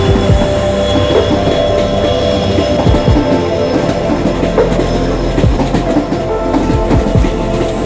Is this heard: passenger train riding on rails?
yes